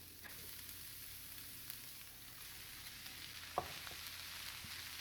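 Okra frying in a pan with potatoes and pre-cooked salted fish, Guyanese style: a faint, steady sizzle with a few soft clicks from stirring.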